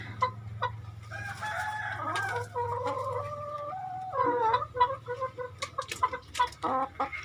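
Hens guarding their eggs cluck and cackle close by, with drawn-out crowing calls early on giving way to rapid, choppy clucking bursts, over a steady low background hum.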